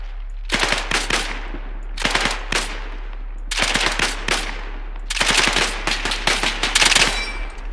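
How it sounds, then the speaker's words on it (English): Suppressing machine gun fire in a World War II video game set during Operation Neptune with 101st Airborne troops: several rapid, loud bursts of automatic gunfire separated by short pauses, close and sharp. "Alright, suppressing fire."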